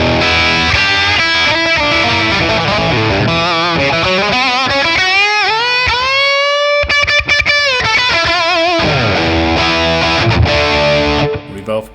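Electric guitar lead through a Matchless Laurel Canyon amp driven by a Klon Centaur overdrive, playing sustained, bending and vibrato-laden overdriven lines, loud and continuous with a brief pause near the end.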